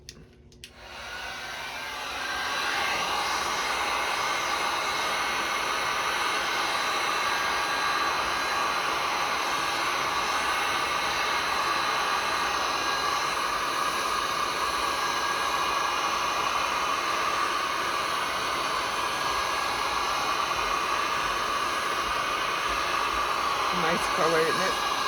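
A handheld heat tool blows over a resin coaster, warming thermal drops of colour. A sharp start is followed by a loud, steady airy rush that holds for the rest of the stretch, with no talking.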